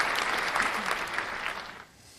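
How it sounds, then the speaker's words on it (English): A canned applause sound effect is triggered by a live show host, a short burst of crowd clapping and cheering that cuts off abruptly near the end. "I have to hit the applause."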